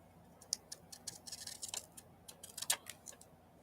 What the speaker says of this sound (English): Let's get the Mondo big scissors and give that a trim.